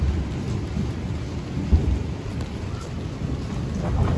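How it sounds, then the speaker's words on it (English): Thunder rumbles over steady rain during a coastal family vacation on the Outer Banks, North Carolina, a low continuous roar with a brief louder crack midway, no voices. "Why is it raining out?"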